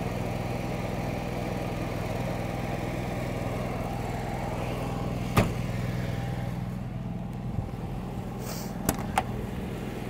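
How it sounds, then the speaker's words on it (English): An Onan 5500 gas generator mounted on a 2020 Newmar Baystar Sport 3226 motorhome drones with a steady, even low hum throughout, with a few sharp clicks near the end and no talking. "You can hear that generator's running right now,"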